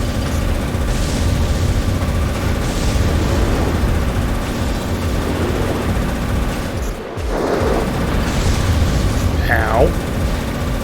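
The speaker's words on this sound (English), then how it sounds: "Those are big-ass missiles. Large rockets." Big missiles and large rockets blasting away in Armored Core 3, a steady roar of heavy weapon fire and rumbling explosions, with a sharp deep boom midway and a rising whistling streak near the end.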